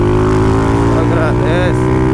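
Honda Start 160 motorcycle engine running loud and steady with a strong low hum while the rider shifts gear, with speech faintly over it.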